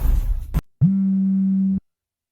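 A single steady electronic phone tone sounds clearly for about a second, alone, right after a short burst of other sound cuts off.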